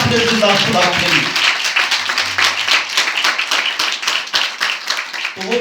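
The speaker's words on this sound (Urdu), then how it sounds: "زوردار تالیاں آپ نے زندہ خدا کے لیے۔" Loud applause and clapping from a church congregation at a worship service, dense and sustained for several seconds, with a voice briefly speaking at the start.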